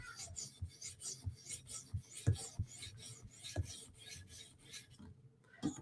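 A knife edge is drawn back and forth across a whetstone in short, rhythmic rasping strokes, close and fairly quiet, ending with a brief pause.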